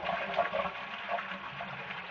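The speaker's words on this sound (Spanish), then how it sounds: "hemos cortado el agua de paso, tiramos de la cadena" A toilet cistern flushed by pulling the chain with the stop valve shut, giving a brief gush of running water that fades into a weak trickle, close and moderately loud.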